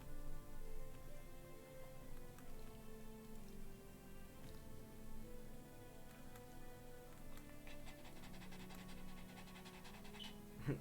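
A dog pants faintly and steadily in the background, with soft rhythmic breaths running under quiet game sounds.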